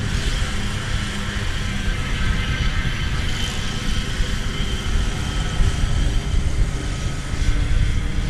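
Airbus A319 airliner passing at DFW Airport, a steady loud broadband jet roar with rumbling low end that holds evenly throughout, no voices.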